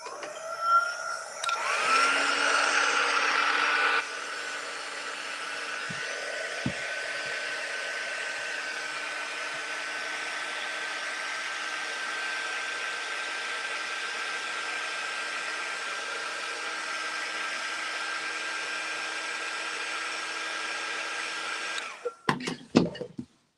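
Hair dryer drying a US flag craft project, a steady loud whirring blast that runs continuously for about twenty seconds, louder at the start, then cutting off with a few handling clatters.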